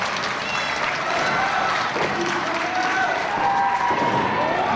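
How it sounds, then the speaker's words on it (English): A wrestling crowd at a live show cheers and roars steadily and loudly throughout, a dense wash of voices with an announcer talking over the noise. "This crowd trying to push a little bit of life back into Tatum"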